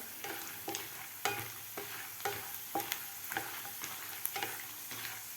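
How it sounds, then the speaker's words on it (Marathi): Peanuts and gram dal roasting in a pan over medium gas, a soft dry rattling hiss broken by regular scraping stirs about every half second, quiet and close with no talking. "आपल्याला हे जिन्नस व्यवस्थित मिडियम गॅसवर भाजायचे आहेत"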